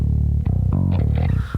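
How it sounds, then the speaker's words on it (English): A growly bass line treated with light compression and soft distortion plays alone in a mix, several punchy sustained notes with gritty overtones and brief gaps between phrases. "With a soft distortion to make it even more growly, and just listen to the bass before and after."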